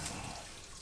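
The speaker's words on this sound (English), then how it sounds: "Now it's gonna pour fuel out everywhere." Diesel fuel pours out of a dump truck fuel filter in a faint, brief splashing trickle, close by.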